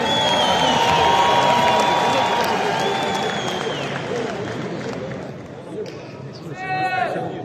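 Audience at a fight event press show applauds and cheers in a busy, roomy crowd wash, with voices and a sustained tone over it, tapering off near the end.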